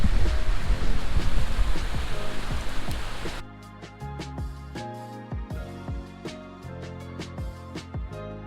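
A waterfall in Death Valley, reached on a short desert hike, gives a loud, steady rushing roar for about three seconds before cutting abruptly to quieter, tonal music.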